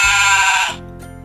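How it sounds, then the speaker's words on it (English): A sheep gives a single loud, close bleat lasting under a second, a wavering nasal cry that cuts off abruptly, with no one talking. "Let's listen to the sheep."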